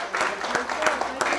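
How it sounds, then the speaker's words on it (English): A crowd applauds a giveaway winner, steady clapping with a few sharper claps, fairly close, while a voice talks over it. "Let's give Ms. Scott a round of applause."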